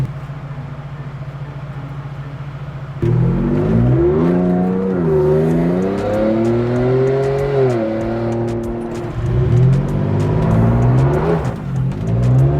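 A 2022 Ford Bronco fitted with a Whipple Tomahawk supercharger idles, then accelerates hard, its engine rising and falling through several loud revving surges with supercharger whine, heard close up from inside or beside the vehicle.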